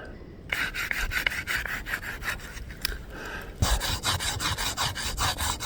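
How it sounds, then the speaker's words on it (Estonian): A piece of river-found sandstone rubs back and forth over wood in steady, rasping strokes, close and fairly loud, with a brief pause before the scraping resumes more strongly. "Meil on siin tükike liivakivi jõest leitud. Proovime sellega lihvida."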